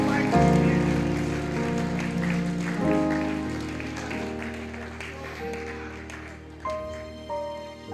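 A church congregation applauds in a steady patter of clapping, mixed with sustained organ or keyboard music and voices.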